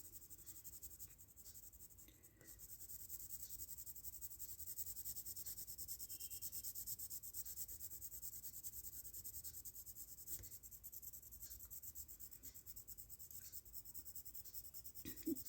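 Pencil shading on paper while sketching mountain shapes makes a faint, steady scratchy rubbing that continues throughout without talk.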